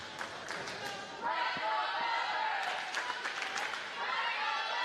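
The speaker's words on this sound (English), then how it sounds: "A lot of the students that were here at the outset still here cheering on the Scarlet Hawks team." High school students cheering at a Milford Scarlet Hawks volleyball match against Mansfield, a gym crowd roar that swells about a second in and again near the end, with clapping and shouts under a commentator's talk.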